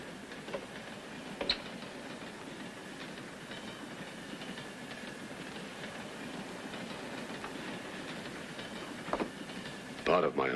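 Continuous rumble of a moving train with rhythmic clicking and rattling, heard from inside, with occasional louder clanks.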